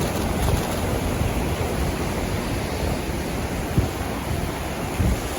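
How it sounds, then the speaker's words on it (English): Ocean surf breaking at Snapper Rocks, Rainbow Bay, a steady roaring wash of waves close by, with occasional heavier bursts of water and some wind buffeting the microphone. "The waves are getting a bit too close to my pocket."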